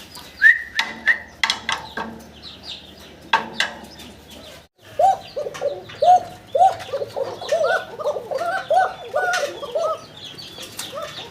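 A male fancy pigeon coos close to the microphone in repeated rolling bursts, some short and some drawn out, while other birds call softly in the background.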